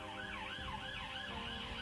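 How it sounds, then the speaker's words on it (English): An ambulance siren wails outside in a steady rising-and-falling cycle, faint and distant but continuous, with no other sounds over it. "Ambulance again."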